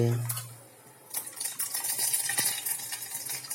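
Soft crackling and sputtering of mustard seeds in hot oil, a brief hiss at the start followed by continuous light popping and stirring scrapes.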